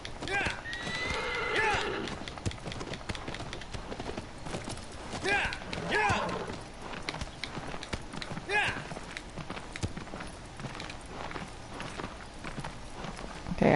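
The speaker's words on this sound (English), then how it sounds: "Agro's being like a Breath of the Wild horse right now." The horse Agro gallops in the Shadow of the Colossus video game, rapid hoofbeats with a few whinnies amid game ambience, played under a person talking.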